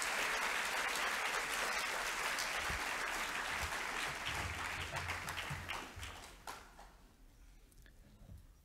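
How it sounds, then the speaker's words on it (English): Loud applause from a large audience at a school awards evening, sustained for several seconds and then tapering off into scattered claps and quiet. "Could we please give these students a round of applause?"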